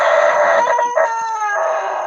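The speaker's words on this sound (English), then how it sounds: "Are you sleeping with that rooster in your house?" A rooster crows once indoors, a clear, fairly close, drawn-out cock-a-doodle-doo with a harmonic, slightly wavering tone that trails off near the end.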